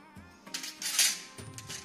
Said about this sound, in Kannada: ಎರಡು ಸ್ಪೂನ್ ತಗೊಳ್ಳೋಣ ಅಂತ